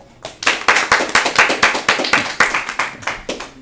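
Roughly fifteen sharp hand claps in a steady, brisk rhythm, close and loud, with no talking over them.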